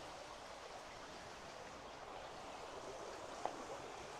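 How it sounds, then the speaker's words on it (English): Freshwater creek flowing beneath a covered bridge, a steady broadband rush of moving water that stays even throughout, with one faint brief click near the end. "Beautiful freshwater creek still."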